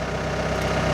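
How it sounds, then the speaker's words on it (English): A Massey Ferguson tractor on a farm rumbles past in a steady, continuous low engine drone, fairly loud and close, with no talking. "There's a farmer going by. It's a Massey Ferguson."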